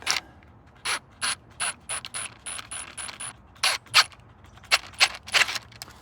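A ratchet tightens the oil catch can bracket on a Ford Crown Victoria, giving off a string of close, crisp clicking bursts in short irregular runs, alone with no talk.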